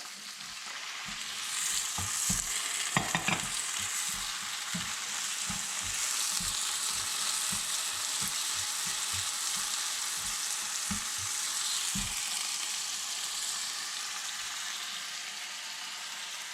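Shrimp and shallots stir-fry in a wok for a Yangzhou-style fried rice, with a steady bright sizzle and a series of short, regular scraping knocks from the spatula. There is no talking.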